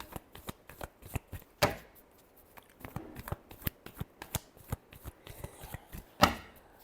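A deck of tarot cards being shuffled up close, with a quick series of riffling flicks and soft slaps, some sharper snaps among them, and no one talking.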